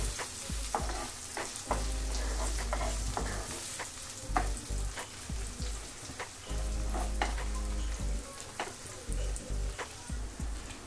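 Small local onions and garlic fry in a pan for a ridge gourd bhorta, a continuous close sizzle with occasional stirring scrapes and clatter, no talking.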